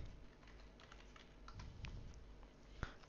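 A computer keyboard types a DHCP command while configuring a network switch: a quiet run of soft, irregular key clicks, ending in one sharper keystroke, with no talking.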